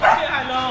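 A brief, loud, close dog vocalization from a large imported dog at a dog seller's, a single sharp yelping bark with whimpering tone, lasting under a second.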